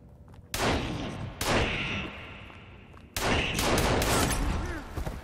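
Shotgun fire in the video game Sons of the Forest, with several loud, close blasts separated by short pauses, then a rapid cluster of shots, each leaving a ringing tail.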